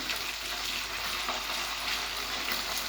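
Chicken pieces frying in hot oil in a pan, a steady close hiss and crackle of sizzling that runs evenly throughout, with no talk.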